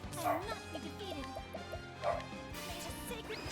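A dog barks in the background from behind a shut door, with a couple of muffled yips rising over game music and ambience, distant and fairly faint.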